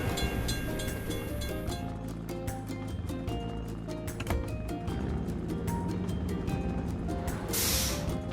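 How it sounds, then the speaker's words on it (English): A train passing a closed crossing in a kids' excavator video game, a steady synthetic rumble with a rapid run of rhythmic clacks and tonal hums, ending in a brief hiss, loud and alone. "We have to wait for the train to pass."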